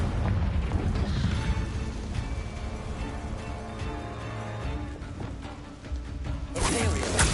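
Fiery Confringo spell blasts in the game Hogwarts Legacy, booming explosions over a dense rumbling game soundscape, with a sharp bright burst near the end.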